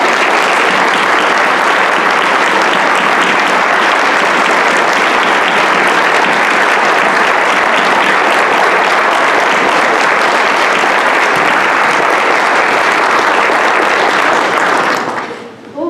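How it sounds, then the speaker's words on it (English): A large crowd at a county Teacher of the Year ceremony gives loud sustained applause for the honorees. The dense clapping holds steady for about fifteen seconds and then fades out quickly at the end. "let us give you a large round of applause"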